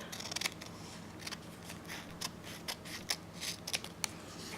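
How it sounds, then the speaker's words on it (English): Scissors snipping off a row of nail polish swatches, a series of small, quick, crisp cuts in uneven clusters, close and fairly quiet over a steady background hiss. "So what you do is you cut off the row that you just did."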